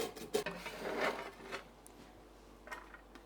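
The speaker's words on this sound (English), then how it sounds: "I'll just use my julienne slicer to slice these nice and fine" Carrots are pushed across a julienne slicer, making several short, dry rasping scrapes close by. A few quieter strokes trail off toward the end.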